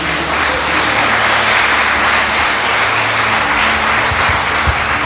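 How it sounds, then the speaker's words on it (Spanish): A church congregation claps together in praise, a dense, steady roar of applause filling the room without a break for about five seconds. "Denle un aplauso al Señor"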